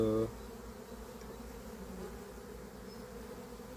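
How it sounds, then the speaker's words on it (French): Winter honeybees in an early-season hive inspection buzz steadily and softly on a comb frame, a continuous close hum with no talk. "C'est encore toutes des abeilles d'hiver là."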